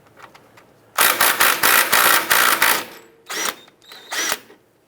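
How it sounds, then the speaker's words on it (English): An 18mm socket on a tool spins off the lower nut of the sway bar end link on a 2002-2007 Jeep Liberty, giving one long loud mechanical whirring burst followed by two shorter bursts. "Using an 18mm socket, go ahead and remove the lower nut on the sway bar end link."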